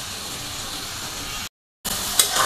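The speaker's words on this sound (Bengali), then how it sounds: "এখন আমি ভেজিটেবলটাকে স্পাইসেস অয়েলের সঙ্গে কষিয়ে নিচ্ছি।" Ash gourd pieces sautéing in spiced oil in a pan, a steady close hiss and sizzle that cuts out briefly before resuming with small scraping ticks, no talking.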